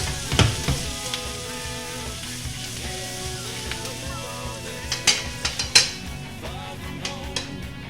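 Vegetables, including onions, sizzling and frying in a hot pan next to a steak, a steady crackling hiss throughout with several utensil clinks and scrapes against the pan.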